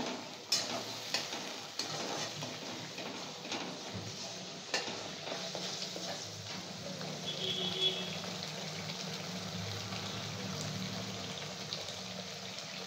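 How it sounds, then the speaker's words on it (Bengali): Onion paste fries in a pan for a potato curry, giving a soft, steady sizzle broken by intermittent scraping stirs, quiet and close throughout. "পেঁয়াজ বাটাটা ভালো করে মা ভেজে নিচ্ছে।"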